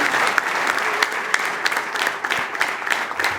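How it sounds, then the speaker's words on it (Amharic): A church congregation claps for God during a sermon, a full continuous round of applause with a few sharper individual claps standing out over the dense crowd sound. "አጨብጭቡ ለጌታ።"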